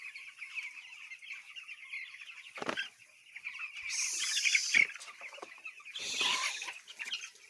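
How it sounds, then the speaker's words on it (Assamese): Fourteen-day-old broiler chicks on a farm, a continuous chorus of high peeping and clucking close by, with brief bursts of wing flapping and scuffling. "আজি 14 দিনীয়া পোৱালি মোৰ।"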